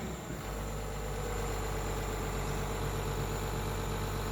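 The diesel engine of a Doosan DX140LCA excavator idles steadily at about 1,850 rpm with a low, continuous rumble and a faint high whine above it, no voices.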